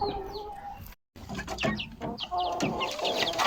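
Pure red junglefowl (labuyo) hens cluck close by, with short repeated chirpy calls and soft clucks in a rough irregular rhythm, interrupted by a momentary silent gap.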